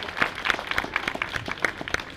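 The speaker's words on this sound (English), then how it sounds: "Big round of applause for the Ceasefire Choir." An audience at an outdoor rally applauds a choir with brisk, scattered clapping that sounds fairly distant and quiet, as if only a modest number of people are clapping.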